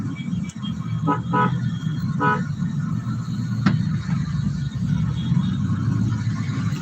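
Busy road traffic near the railway station road in Trichy rumbles steadily, with several short car horn toots near the start and another beep a few seconds later.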